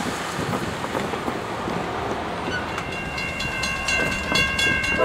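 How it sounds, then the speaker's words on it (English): A CSX freight train rumbles past on track 1 at Folkston, Georgia, a continuous loud roar of wheels and cars with steady rail noise and brief squeals building near the end. "CSX Q something coming by Folkston on track 1."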